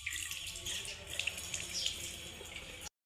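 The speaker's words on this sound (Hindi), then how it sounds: "इसको लगाएंगे मम्मा पानी" Tap water running steadily onto a broom at a household sink, a continuous close splashing hiss with small drips, no voices, for about three seconds.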